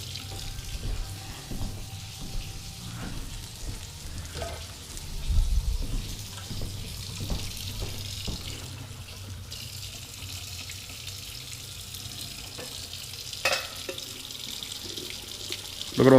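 Water runs steadily from a kitchen tap into the sink of a large rental-house kitchen, a continuous moderate hiss and splash with faint clatter and no talking.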